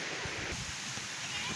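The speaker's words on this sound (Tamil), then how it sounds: "தண்ணி அந்த சைடை விட இந்த சைடு தான் ரொம்ப ஃபாஸ்ட்டாக போகுது." Steady, close rushing water of a fast-flowing mountain river roars continuously, with a broad hissing wash and low churning undertones.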